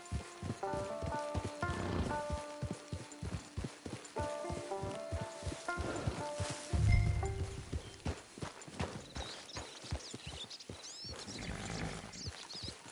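Horse hooves clip-clopping in Red Dead Redemption II, a rhythmic run of close hoofbeats that slows and stops, with a heavy thud in the middle and faint rustling afterward.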